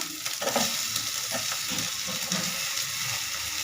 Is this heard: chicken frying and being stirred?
yes